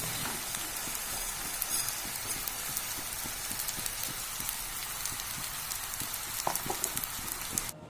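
Washed rice and red lentils frying in a pan for masoor dal khichuri, a steady dense sizzle and crackle like rain on a surface, continuous and even, close by with no talk.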